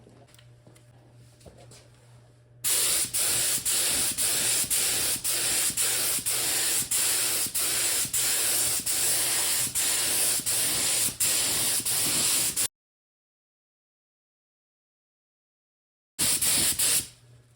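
A spray gun lays a first paint coat on a 1971 Comet GT clone show car, hissing loudly in short repeated bursts for about ten seconds, then silence, then another burst after a quiet hiss at the start.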